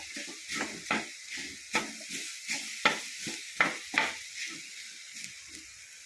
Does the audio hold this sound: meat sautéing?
yes